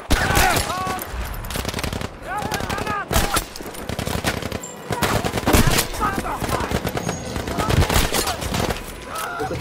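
Battlefield 5 gunfire: loud automatic bursts and single shots crack out repeatedly, separated by brief pauses, with occasional ringing tones and a voice talking between volleys.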